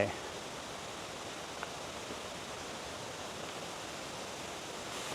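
Waterfall at Mae Wa National Park in Lampang, water tumbling over large boulders, a steady broadband rush close by that holds evenly throughout with no pauses.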